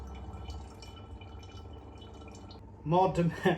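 Drinking water from a portable reverse osmosis filter trickles and drips into a container, running steadily under low background noise, then a voice speaks over it near the end.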